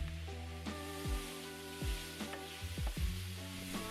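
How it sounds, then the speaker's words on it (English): Mushrooms sautéing in a pan, a soft steady sizzle with occasional pops and low tonal hum from the stove, faint and close with no talk. "I'm going to saute those for a few minutes until they start to shrink down in volume"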